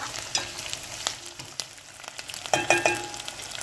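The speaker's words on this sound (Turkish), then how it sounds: "Yumuşamış olan soğanlarımızın içine patates ilave ederek karıştırıyoruz." Potatoes stirred into softened onions in a cooking pot for pea and potato soup, with soft scraping and clinking of a utensil and a low sizzle, growing busier toward the end.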